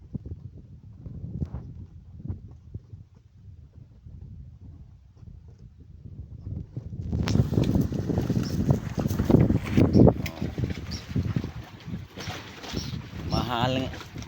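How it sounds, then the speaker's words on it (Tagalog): Strong wind buffets a small boat out on rough open sea, a rumbling gusty roar that swells louder midway with water slaps and knocks, while someone talks over it. "lakas ng hangin. Mahangin na nga, maalon pa."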